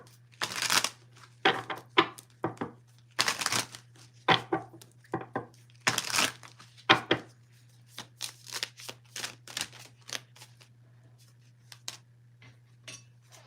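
Graffiti Tarot cards being shuffled in repeated crisp riffling bursts, close and fairly loud, with a steady low hum underneath and no talking.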